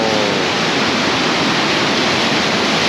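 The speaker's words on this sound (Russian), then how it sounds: "Смотрите, прям вода выплескивается оттуда" Water from the Krasnaya Peshchera (Kizil-Koba) waterfall in Crimea, swollen with floodwater, gushes in a loud, steady, dense roar close by, with no pauses or voices.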